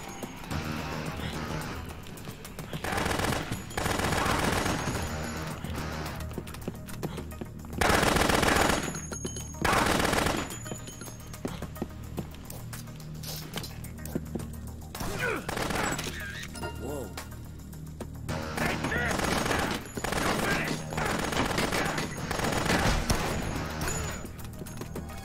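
Rapid gunfire bursts in the zombie action game Dead Rising, loud and repeated over continuous game sound, with a few heavier blasts standing out.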